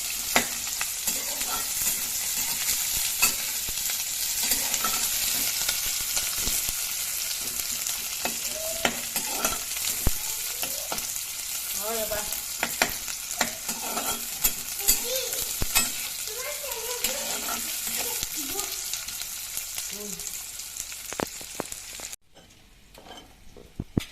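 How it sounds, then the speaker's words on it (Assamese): Chopped onion and green chili fry in hot oil for chicken with sesame seeds, cooking until golden brown. A loud, continuous sizzle runs throughout with frequent utensil clinks and stirring scrapes, then drops off sharply near the end, with no talking. "এইখিনি অকণমান মই গল্ডেন ব্ৰাউন হোৱালৈকে মই ভাজি ল'ম ধুনীয়াকৈ"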